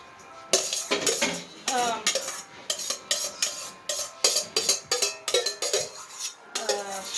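Carrots and onions tumble into a pan while a spoon scrapes and clinks against it in a brisk, repeated rhythm of close, bright strokes.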